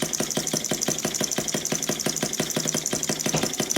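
A small Stirlingkit N12b Stirling engine running slowly, a close, steady rapid mechanical ticking and clatter with even rhythm over a constant hum.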